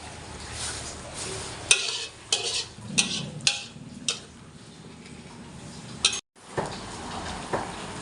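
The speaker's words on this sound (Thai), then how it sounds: "เริ่มเดือดแล้วนะครับ" A pot of coconut curry with river fish comes to a boil, with soft bubbling under a series of light clicks and taps of a utensil stirring against the pot, fairly close and with no talk.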